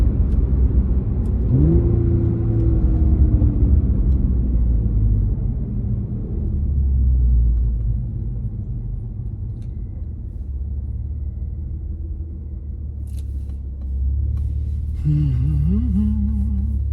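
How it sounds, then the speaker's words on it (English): A B8.5 Audi S5 at stage 2+ tune drives along with a steady low engine rumble and a faint metallic exhaust rattle, the revs rising briefly near the end. "I can hear a rattle in the metal in the exhaust as well"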